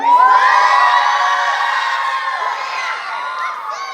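A crowd of young voices gives one loud burst of cheering and whooping in a cheering contest, close by and sustained for about four seconds, fading slightly toward the end.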